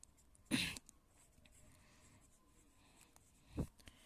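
Short strokes of writing on a board during a maths lesson, with two brief scratchy bursts separated by a quiet pause, fairly close and faint, no talking.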